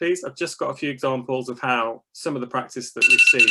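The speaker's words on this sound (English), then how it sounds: "that's my alarm to make me be quiet" A phone alarm beeps in a rapid repeating pattern during the final half-second, breaking in over a person speaking steadily throughout.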